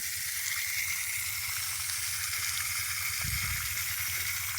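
Borewell water gushes out in a farm field, giving a continuous loud rushing hiss with an even, unbroken flow and a brief low splash near the end.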